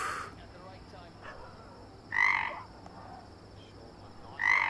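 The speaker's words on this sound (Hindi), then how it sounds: "अरे मेंढक है" Frog croaking in two loud, close bursts against quiet background hiss, separated by a couple of seconds, with fainter calls in between.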